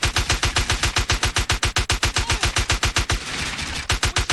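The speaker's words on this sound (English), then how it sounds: "They're still shooting you!" Rapid automatic gunfire in Assassin's Creed Rogue, a steady loud stream of evenly spaced shots with a brief rougher blur near the end.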